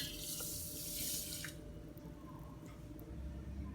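About a cup of water is poured into a pot holding quinoa, a short, close splashing burst that fades into quieter dripping and faint kitchen noise.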